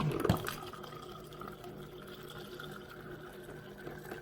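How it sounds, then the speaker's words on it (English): Water is poured into a cup of iced coffee and stirred: a brief splashing pour at the start, then faint ongoing liquid swirling and clinking, quiet and close, with no talk. "I am going to go ahead and just add a little bit of water and then mix that up."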